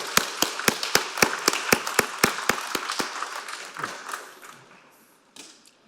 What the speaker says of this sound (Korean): 우리 예배를 섬겨주시는 우리 오케스트라 또 성가대에 또 귀한 감사의 박수 좀